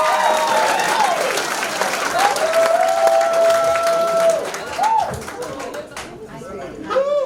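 A comedy show audience applauds and chatters, with music playing underneath; the clapping continues throughout at moderate loudness.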